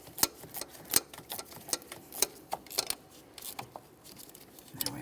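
Ratchet clicking quickly while tightening an AC compressor mounting nut on a 2001-2005 Ford Explorer Sport Trac, a close run of light, uneven metallic ticks with a few brief pauses.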